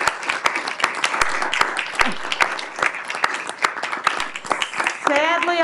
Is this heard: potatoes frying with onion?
no